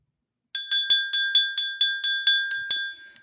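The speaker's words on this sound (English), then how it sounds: "when I ring that bell, I read it" A small bell rings indoors as part of a tarot reading, ten bright, evenly spaced strikes in a steady run that fades out with a short tail. No one speaks.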